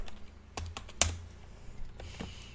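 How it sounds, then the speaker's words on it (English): Computer keyboard keys clatter in a quick, uneven burst of clicks, with one sharper loud press near the middle, recorded close and alone without any voices. "I don't know if you could hear the keyboard"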